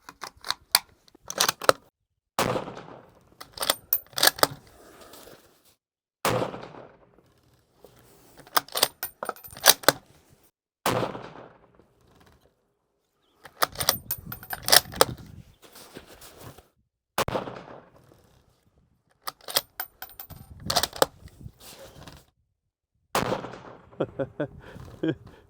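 A series of Mossberg Patriot rifle shots fired for a group, each a sharp loud crack followed by a short ringing tail, separated by quiet gaps of several seconds, with faint handling clatter between them.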